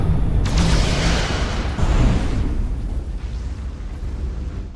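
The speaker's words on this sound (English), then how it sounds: "Fire photon torpedoes!" Photon torpedoes fired from a starship in the video game Star Trek Resurgence: two loud, booming bursts in quick succession, each trailing off into a rumbling decay.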